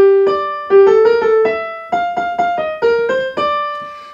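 A solo jazz line in a tune moves from a four chord to a four minor, played as clear melodic notes with a bright, reedy tone. The phrases are separated by short gaps, and no one talks.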